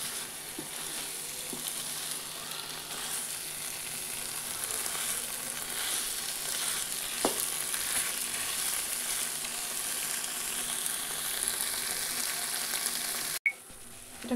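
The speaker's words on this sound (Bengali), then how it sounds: "ফ্লেমটাকে লো টু মিডিয়াম করে করে আমি এটাকে খুব ভালো করে কষিয়ে নেব।" Chicken sautés in a pan over a low to medium flame with a steady, even sizzle and occasional soft stirring. It is close and continuous, with a brief break near the end and no talking.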